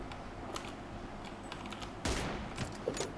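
M24 sniper rifle shots in a first-person shooter game match, a few sharp distinct cracks over a low game background, one louder shot midway.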